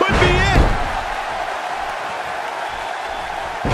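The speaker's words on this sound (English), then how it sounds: "She comes up with a slam." A wrestling slam in the video game WWE 2K18 during a fatal four-way women's match: a sharp thud at the start, a whooping crowd, then steady arena crowd noise under a commentator.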